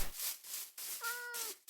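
A Minecraft cat gives a single short meow, close and clear. Rapid repeated scraping and rustling sounds surround it.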